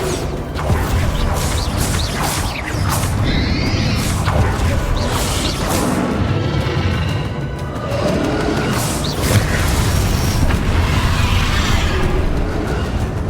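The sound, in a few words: Bombarda blasting spell explosion from video game Hogwarts Legacy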